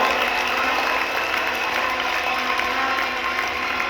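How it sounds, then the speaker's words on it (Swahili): An audience at a large business conference claps continuously in a dense, even wash of applause that holds steady throughout, filling the hall without any speech on top. "applaud as if you're applauding for yourself"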